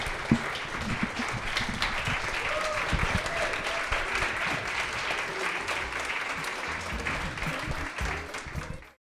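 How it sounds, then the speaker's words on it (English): An audience claps in sustained, dense applause for several seconds before it cuts off abruptly. "let's get a good round of applause."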